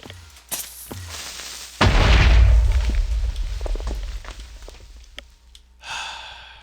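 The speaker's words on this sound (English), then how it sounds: "Damn creepers and their craters." A creeper explodes in Minecraft 1.7.2 with a loud, close boom that bursts in suddenly and then decays into a long rumbling tail. A few sharp clicks follow, and a softer burst comes near the end.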